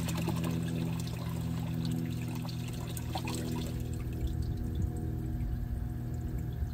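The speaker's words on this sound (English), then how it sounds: "the valve leaks significantly during the opening and closing process as the water escapes along the lead screw" Water escaping from a 3D-printed hydroponics gate valve along its lead screw, a steady close pouring and trickling wash that runs continuously over a low hum, with no talk.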